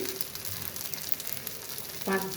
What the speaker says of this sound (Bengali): টমেটো দিচ্ছি